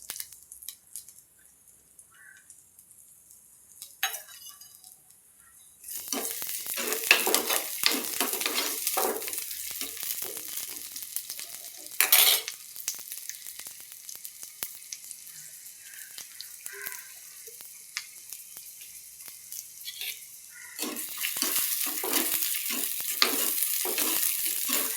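Small sardines with onion, green chili and curry leaves sautéed in coconut oil, a sizzle that begins after a quiet start with stirring clatter, pauses to a low hiss, then returns loud and steady near the end.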